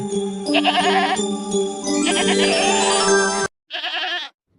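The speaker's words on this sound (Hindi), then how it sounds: "यह तो बकरी के चिल्लाने की आवाज है," A goat bleats loudly and repeatedly in long wavering cries, close by, with a short pause before a final bleat.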